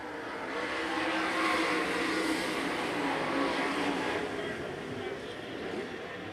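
UMSS winged sprint cars race around a dirt oval at the Open Wheel Nationals opening night feature, a dense continuous engine roar filling the air without a break.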